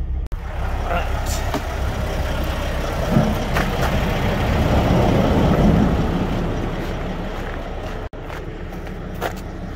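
A pickup truck pulling a harrow idles in a truck parking spot with a steady, loud low rumble and a few brief knocks and clicks on top.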